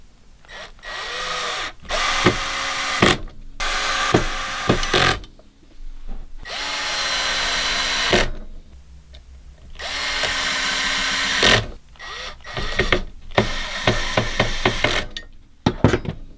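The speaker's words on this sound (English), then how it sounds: "And we'll install our Phillips tip, and we can screw down the brackets." A power drill with a Phillips tip whirs in repeated bursts, driving screws through brackets into a wooden shelf, with short pauses and clicks between runs; loud and close.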